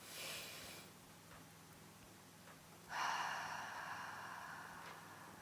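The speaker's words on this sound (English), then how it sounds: "breathe in deeply through the nose, fill up that belly, then exhale through the mouth" Deep breathing during a stretching routine, a long airy inhale through the nose followed later by a stronger, drawn-out exhale through the mouth, close and soft over quiet room hiss.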